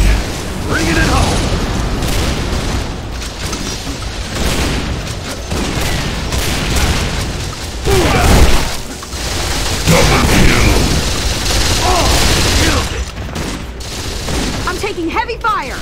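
Heavy gunfire in an Unreal Tournament 3 team deathmatch on the Crucible map, dense loud weapon blasts, booms and pops in relentless succession, with game voice announcements mixed in.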